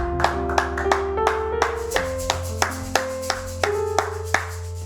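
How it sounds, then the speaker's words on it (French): A church congregation at a Wednesday evening prayer meeting claps in acclamation, with regular sharp claps in a steady rhythm over sustained organ or keyboard tones. "Donnons-lui une acclamation encore ce soir."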